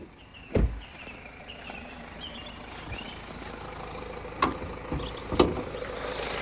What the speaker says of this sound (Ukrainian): Ось такий у нас він під капотом, двигунчик працює просто ідеально.